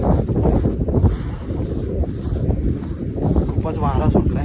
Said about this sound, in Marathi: खूपच वारा सुटलाय.